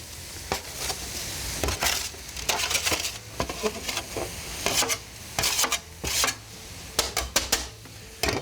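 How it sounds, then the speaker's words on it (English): Vegetables for a no-rice cauliflower fried rice are pushed off a board into a hot pan with a bench scraper, giving repeated sharp scraping strokes and clatters over a steady sizzle, fairly close and clear, with no talking. "I'm just going to scrape the veggies with my handy bench scraper right into the pan."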